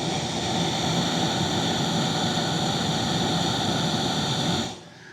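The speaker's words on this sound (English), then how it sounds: "fan should be kicking on. You can hear that fan." A Breezo blower fan runs on a Weber kettle grill, a loud, steady whir with a constant tonal hum that holds unchanged before cutting off abruptly near the end.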